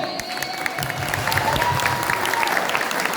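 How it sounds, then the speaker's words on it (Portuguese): An audience claps for a correct answer at a church talk about saving a marriage, a steady round of applause that grows a little louder halfway through. "Pode aplaudir, acertou?"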